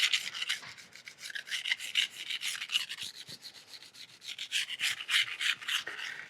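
Kitchen knife ground against a coarse grit whetstone to raise a burr, a steady run of close, gritty rasping strokes back and forth with a rhythmic scrape pattern, no voices.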